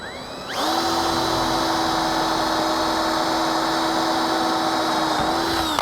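A power drill bores into the aluminum foot of a Bronco roof rack. It spins up quickly, holds a steady high whine for about five seconds, and then cuts off.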